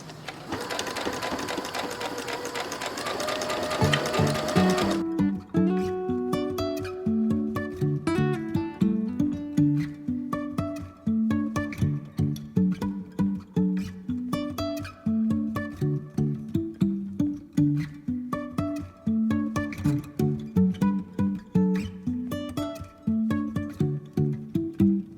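A sewing machine runs steadily forward and then in reverse, its rapid mechanical stitching chatter loud and continuous, with a brief burst of broadband noise at the start before the rhythmic whirring settles in.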